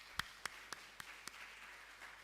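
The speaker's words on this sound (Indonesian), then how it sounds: "Mari kita tepuk tangan untuk perayaan Natal." Five sparse claps from an audience at a church Christmas service, spaced about a quarter second apart, sharp but moderately faint over a quiet room.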